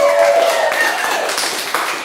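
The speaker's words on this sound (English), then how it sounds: "Let's give them a round of applause." Applause rises from the audience at a stand-up comedy and improv show, a brief spell of mixed clapping with some tonal voices or whoops mixed in.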